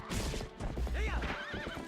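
A horse in Zelda: Twilight Princess gives a loud, close whinny with a wavering pitch, mixed with hoof clip-clop, over a short burst.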